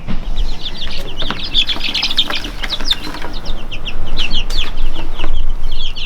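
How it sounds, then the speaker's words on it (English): Young Rhode Island Red chicks in an outdoor pen cluck and peep in a busy overlapping chorus, close and fairly loud, with bursts of wing flapping and light scuffling throughout. "I've got this chicken right here."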